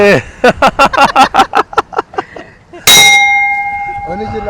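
A rapid run of about a dozen bright metallic clangs rings out near the Red Sea, slowing and fading, followed by a sharp loud clang whose long sustained ringing tone decays under faint voices.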